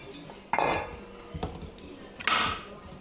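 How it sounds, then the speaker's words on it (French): A metal saucepan clanks down onto a stovetop, followed by a lighter knock and another clattering set-down of cookware, close and sharp. "On va mettre cette casserole à chauffer"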